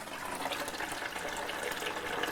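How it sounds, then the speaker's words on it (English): Water pours steadily from a newly installed shower valve in a third-floor bathroom, a continuous broadband rush of running water, close and fairly loud, with no talk. "there you've got your hot water"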